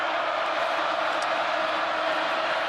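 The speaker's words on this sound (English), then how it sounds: "This crowd making it difficult to communicate." A loud stadium crowd at a college football game, Baylor at Kansas State, a dense continuous roar filling the whole stretch without break.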